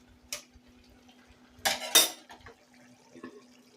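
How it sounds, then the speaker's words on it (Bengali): A utensil clinks and scrapes against a pan while egg masala with added water is worked, a few sharp metallic knocks and short scrapes standing out over near silence and a faint steady hum. "এখানে আমি দিয়ে দিয়েছি হাফ কাপের মতো জল দিয়ে দিয়েছি। দিয়ে মশলাটাকে এবার ভালো করে কষিয়ে নেব।"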